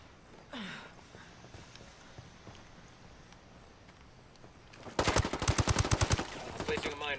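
Rapid automatic gunfire erupts partway through a shooter video game match, loud and rattling in a fast steady burst after a quieter stretch of background game sound.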